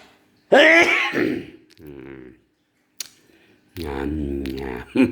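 A few short coughs and throat-clearing bursts, close by, separated by pauses and a bit of speech.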